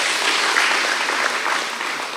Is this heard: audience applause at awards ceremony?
yes